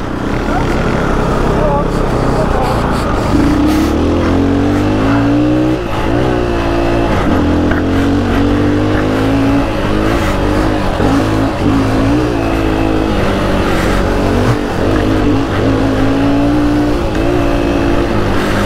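Fantic 250 Enduro motorbike ridden off-road through mud and bumps, its engine droning loud and close with rising and falling revs throughout, a voice speaking over it.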